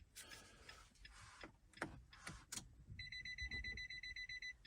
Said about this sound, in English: Make sure we get a beep.